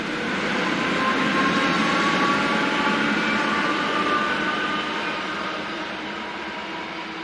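Czech Class 451 electric multiple unit, built 1964–1968, pulling away from a station: a steady broadband rumble with a faint whine, loud at first and slowly easing as it draws off.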